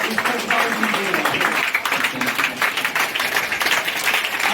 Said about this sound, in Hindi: आप खड़े हो जाइए और तालियों से जनाब की इस्तकबाल कीजिए